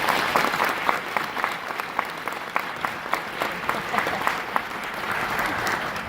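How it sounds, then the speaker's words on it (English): A crowd applauds steadily, many hands clapping together in a sustained, even burst that carries on for several seconds at moderate volume. "So please, let's give Senator Capito a round of applause."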